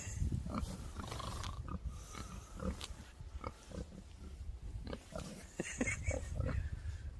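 Gloucestershire Old Spots pigs grunt and snort up close on a farm, with steady low rumbling and scattered louder grunts throughout.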